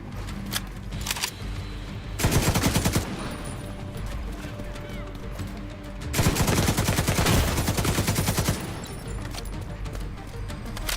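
Automated turret in The Division 2 firing two dense bursts of rapid shots about a second long each, separated by quieter gaps with scattered gunfire and faint game sounds.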